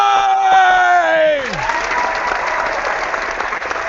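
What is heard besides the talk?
audience clapping and cheering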